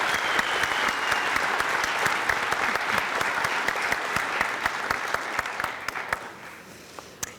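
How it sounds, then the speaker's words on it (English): A ceremony crowd at a National Honor Society induction gives a steady round of applause for new officers, dense and sustained, then thins to a few scattered claps near the end. "Please, a little round of applause for all the new officers."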